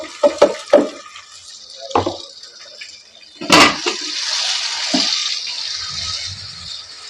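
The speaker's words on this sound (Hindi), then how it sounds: "हमने अदरक, लहसुन और टमाटर डाल दिए।" Chopped ginger, garlic and tomato tipped into onions frying in a pan: a few sharp knocks and clatters, then a burst of loud hissing sizzle that settles into a steady fry.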